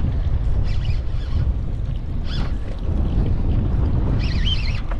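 Strong wind buffeting a fishing boat out on the water while chasing barramundi, a steady loud rushing roar with constant low rumble throughout, a few faint higher tones drifting over it and no talking.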